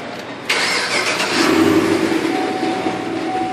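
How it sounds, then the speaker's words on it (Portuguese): A yellow Chevrolet Camaro's engine catches with a sharp burst, then revs and settles into a loud, close, throaty rumble that holds steady to the end. "Vou botar um ronco do motor pra vocês."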